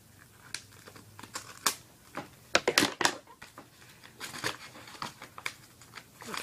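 Plastic packaging from an unboxing of yo-yo gear crinkles and snaps close by in irregular bursts, with quiet gaps between handling sounds.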